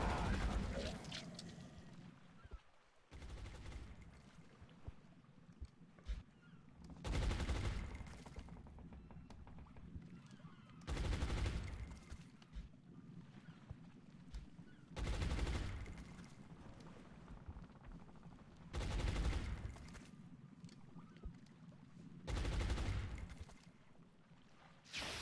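Bursts of suppressing gunfire from the XCOM Long War strategy game, several loud rattling volleys recurring every few seconds over a low ambient game background.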